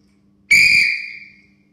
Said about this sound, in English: once you've blown the whistle and signaled